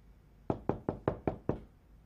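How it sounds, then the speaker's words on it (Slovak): Six firm, evenly spaced knocks on a door, sharp and close, following a short silence and standing alone without any voices. "Klope niekto."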